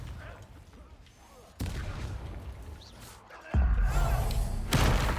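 Confringo blasting spell and other spell impacts in Hogwarts Legacy combat, heavy booming bursts with abrupt loud onsets and sustained rumbling, while someone talks over the game.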